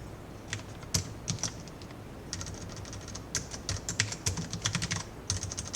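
Quick bursts of typing on a computer keyboard while working in a text tool in design software, with clustered keystrokes and short pauses, close and fairly quiet against a low room hum.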